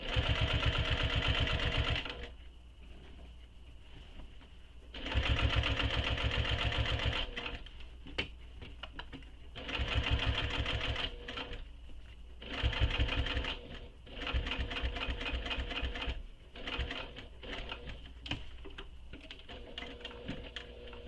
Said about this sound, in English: I'm stitching up to the corner and then I'm pivoting the bag